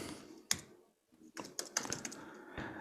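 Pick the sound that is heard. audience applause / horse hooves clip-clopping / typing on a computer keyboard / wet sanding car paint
typing on a computer keyboard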